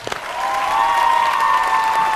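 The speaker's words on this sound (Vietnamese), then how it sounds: "một tràng pháo tay thật đặc biệt cho cả bốn bạn ở đây" A studio audience on a Vietnamese television singing competition applauds a four-singer duet performance, a steady burst of clapping that swells and holds under a sustained musical tone.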